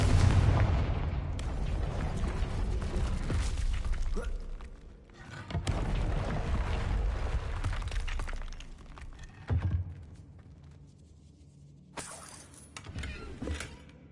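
A fiery blast from the Confringo spell in the game Hogwarts Legacy, heard as several loud booming bursts with crackling tails separated by brief lulls, over steady game background noise.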